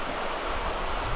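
A New England river flows in a steady, broad rushing wash, loud and continuous with no voices over it.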